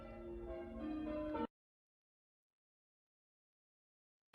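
Church bells ring in a steady, resonant peal for about a second and a half, then cut off abruptly into silence.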